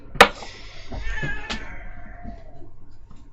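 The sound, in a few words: cat meowing in video game Horrifeye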